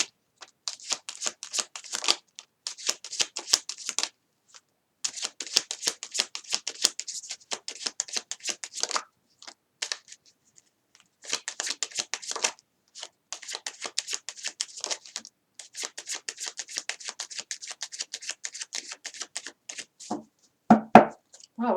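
Tarot cards are shuffled close up in repeated bursts of crisp riffling and flicking, several seconds each, separated by short pauses, ending with a few louder taps and handling sounds, no talk.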